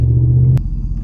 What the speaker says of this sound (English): the truck has been running for about a minute